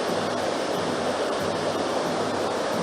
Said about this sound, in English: And there we've got the waterfall ahead of us.